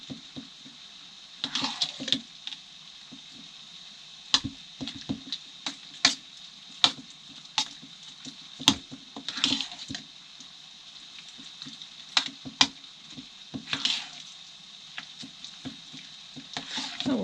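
Ravioli lasagna ingredients are stirred in a bowl that is a little too small, making soft, wet squishing and clicking scrapes of a spoon in irregular bursts close by, against a quiet background.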